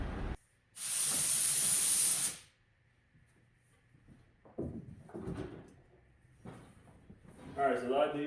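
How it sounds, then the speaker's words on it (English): Paint spray gun on a Honda Del Sol panel gives one loud, steady hiss lasting about a second and a half, then goes quiet while someone talks. "But we're gonna go ahead and spray it."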